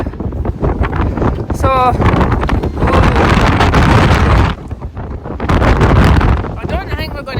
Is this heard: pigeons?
no